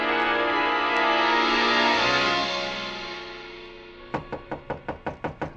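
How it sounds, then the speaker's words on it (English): Eight sharp knocks on a hotel room door in a 1950 radio drama, evenly spaced and close, following a swelling sustained orchestral chord that fades out first. "The knock surprised me."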